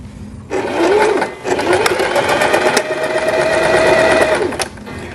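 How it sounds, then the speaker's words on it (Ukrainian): A sewing machine stitches along the fabric edge of a hair scrunchie in a loud, steady mechanical whir that runs nearly the whole time, with a short pause near the start. "Тепер я буду йти до машинки і шивати ось тут по цьому краю"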